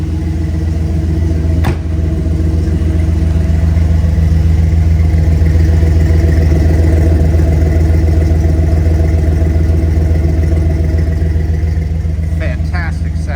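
A 1953 Chevrolet 3100 pickup's engine idles steadily and smoothly, a low even rumble close by, with a brief knock early on and faint clicks near the end.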